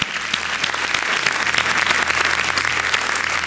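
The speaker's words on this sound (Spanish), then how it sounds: "Dale un aplauso al Señor" Church congregation standing and applauding during a sermon, dense steady clapping from many hands filling the room evenly from start to finish, with no voices standing out.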